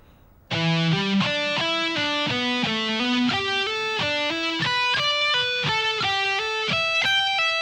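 Electric guitar with distortion plays a shred sequence at a slow tempo, a run of separate picked notes in a steady rhythm that steps gradually higher, loud and close and alone.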